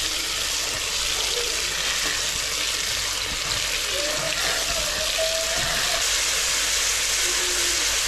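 Tomatoes fry in a pan of hot oil, making a loud, even, close sizzling hiss that lasts throughout, with faint kitchen sounds underneath.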